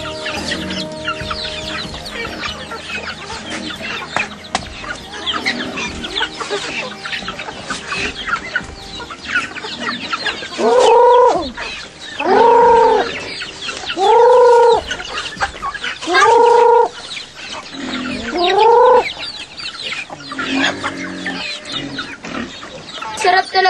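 Chickens cluck repeatedly in a busy outdoor yard, with a series of loud, close calls rising above steady background chatter and farm noise.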